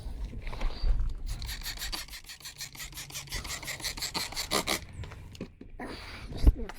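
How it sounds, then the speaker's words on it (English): Rapid back-and-forth scrubbing of 4WD tyres treated with Simple Green cleaner, a close, rhythmic bristly rasp in quick even strokes that builds to a fast burst in the middle before slowing. "Just a bit of scrub."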